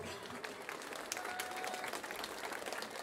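Audience applause at a jubilee concert for the Chełm Cement Works brass orchestra's 50th anniversary, a steady wash of many hands clapping, fairly faint and distant, lasting throughout.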